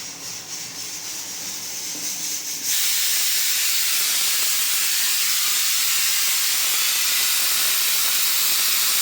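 A soft hiss swells, then jumps into a loud, steady jet of steam escaping from a puttu steamer cooking wheat puttu, blowing strongly to the end.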